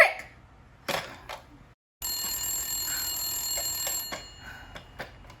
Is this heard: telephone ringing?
yes